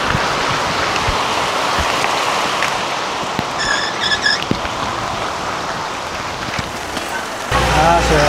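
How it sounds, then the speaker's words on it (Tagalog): Heavy rain pours steadily on surfaces outdoors in Cagayan de Oro, a dense continuous hiss with a few sharper drops, growing louder and closer near the end. "Medyo malakas yung ulan."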